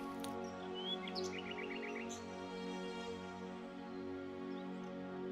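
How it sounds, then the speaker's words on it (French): Small birds chirp and trill in short bursts over a steady low background hum, fairly faint and distant. "les petits oiseaux tout autour se mirent à chanter."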